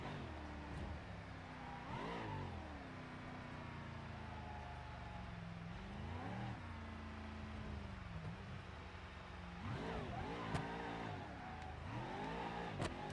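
Gavril Vertex in BeamNG.drive revving and accelerating hard, engine note rising and falling through several gear changes and throttle bursts, steady and close with no talk.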